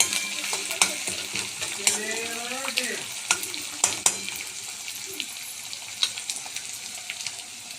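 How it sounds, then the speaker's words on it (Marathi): Masala paste with curry leaves is stirred and sautéed in a hot pan, a soft steady sizzle broken by repeated clinks and scrapes of the spoon against the pan at a moderate, close distance. "कढीपत्ता टाकला, असं याला चांगलं परतून घ्यायचं।"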